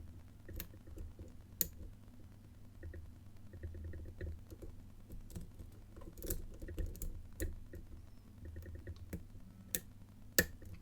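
An old Avocet Euro lock is being picked, producing faint scratchy metal scraping with small, sharp pin clicks scattered throughout. The sounds are quiet and close, and no one speaks.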